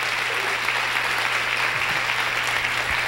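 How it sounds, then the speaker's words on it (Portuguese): An audience at an academic debate gives warm applause, dense steady clapping filling the room throughout, with a faint low hum beneath. "eu só posso pedir a todos uma calorosa salva de palmas pelo"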